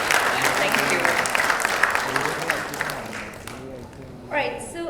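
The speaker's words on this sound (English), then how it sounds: "can we have a big round of applause" Sustained audience applause at a vegan-themed conference panel, dense clapping filling the room for several seconds before thinning out as a voice begins to speak.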